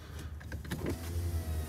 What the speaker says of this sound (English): Lowering the windows for you too.